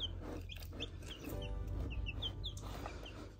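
Young roosters, newly arrived cockerels, cluck and give short chirpy calls in repeated bursts close by, over a steady low hum of the surroundings with no talking.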